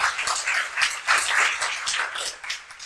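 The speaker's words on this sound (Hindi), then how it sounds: "तालियां लगाएं" An audience claps for a commando, a short burst of dense, even applause heard close and filling the whole moment, with no talk over it.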